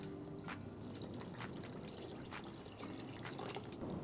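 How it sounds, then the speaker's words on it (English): Water poured into a mixing bowl while measuring for a no-knead sourdough dough, heard as a soft, steady trickle with faint drips, quiet and close, with no talking. "next up, water. And it calls for 397 grams of water."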